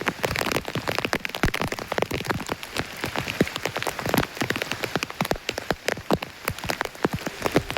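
Heavy rain patters densely and close on a hard surface, countless drops striking in a constant rapid clatter with no voices.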